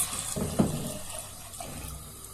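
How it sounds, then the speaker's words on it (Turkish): One litre of milk poured into a pot on the stove for muhallebi, a soft liquid splash and gurgle that is loudest early on, then fades to a quiet trickle. "Şimdi ilk önce 1 litre sütümüzü döküyoruz."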